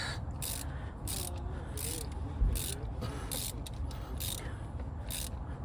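Ratchet wrench snugging a spark plug in a 2016 Toyota Highlander engine bay, giving about eight evenly spaced quick clicking bursts in a steady rhythm, close by and moderately loud over a low background rumble.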